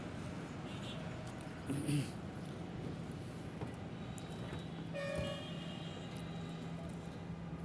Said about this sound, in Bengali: মেট্রো রেলটা আইসা পড়ছে